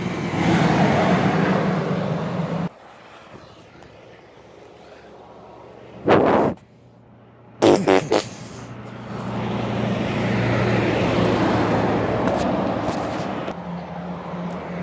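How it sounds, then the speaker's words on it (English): A 2015 Peterbilt 567 truck passes eastbound on a road in Blue Lake, California, with a loud rushing engine and tire roar that fades, followed by sharp thumps and then a second long passing swell. "Also a truck coming eastbound in 2015, Peterbilt"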